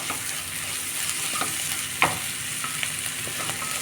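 Gram flour frying in a pan for a cabbage masala curry, a steady soft sizzle with light stirring scrapes and one sharper clink near the middle, no voices.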